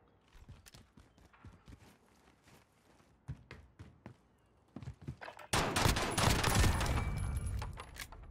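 Pistol shots in a video game crack out as a string of sharp, separate reports at an irregular rhythm, then a louder, denser burst of gunfire and explosions takes over near the end.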